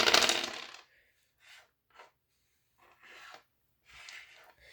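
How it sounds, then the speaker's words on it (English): Dice tumble and clatter across a table during a game of Zilch, a loud initial rattle followed by several softer, scattered clicks as they settle. "I have to roll the remaining dice if I want to risk it, which I do."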